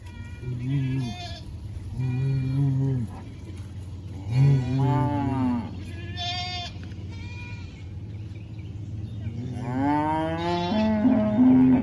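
Cattle, including a red calf, moo and bleat in several drawn-out calls of varying pitch, fairly close, with brief gaps between them.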